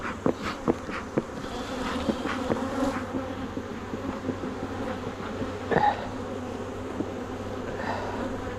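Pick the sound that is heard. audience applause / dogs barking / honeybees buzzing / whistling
honeybees buzzing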